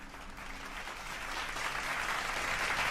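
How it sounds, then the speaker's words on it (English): Steady clapping from a group that swells slightly toward the end, fairly even and sustained with no voices on top. "I'll send you out with a clap out, bro."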